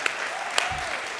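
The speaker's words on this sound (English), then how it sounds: "I'm going to clap for that" A few sparse, isolated claps from an audience at a gathering, faint and spaced apart against a quiet room.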